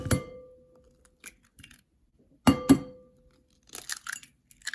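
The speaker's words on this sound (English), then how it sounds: "In my bowl here, I'm going to start cracking some eggs." Eggs crack sharply against the rim of a glass bowl for fudgy brownies, two quick close knocks followed by the shells being pulled apart, with softer clinks and rustles between long quiet gaps.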